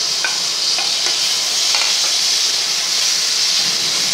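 Curry leaves sizzle and crackle steadily in hot oil with asafoetida for ven pongal, a dense close hiss with a few sharp pops and no talk.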